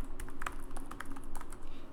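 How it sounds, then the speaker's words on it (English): A code being typed on a computer keyboard: a quick run of light, irregular key taps, fairly close and quiet, with no voices. "I'm typing in my code that I just got from Google"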